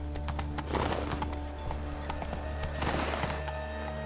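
Roach the horse galloping in The Witcher III, steady hoof clip-clops at a quick rhythm over a constant low background hum, no talking.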